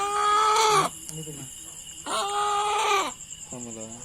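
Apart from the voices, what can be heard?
chickens (fighting cocks) clucking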